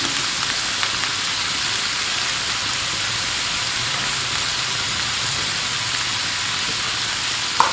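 Chopped green chillies frying in a pan, a steady bright sizzle hissing evenly throughout, close and fairly loud with no speech.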